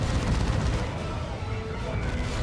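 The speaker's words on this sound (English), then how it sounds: "They can suppress with that assault cannon too." A Space Marine assault cannon fires in the Dawn of War 2 video game: a steady, rumbling stream of heavy automatic fire mixed with battle noise, moderately loud and continuous throughout.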